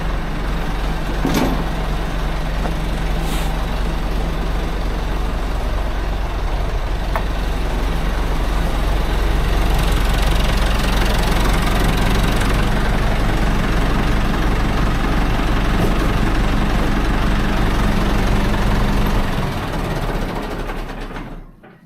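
A tractor engine idles nearby in a low, steady diesel rumble that holds for about twenty seconds, with a few faint clicks and knocks, before it shuts off and the sound dies away at the end.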